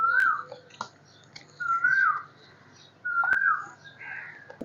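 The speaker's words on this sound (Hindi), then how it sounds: "ये पीछे से जो आवाजें आती हैं बर्ड्स की, चिड़ियों की, बहुत अच्छी लगती हैं" Outside an open window, a bird repeats a clear rising whistled call three times in a relaxed rhythm, with a few softer chirps and sharp clicks in between over a quiet background.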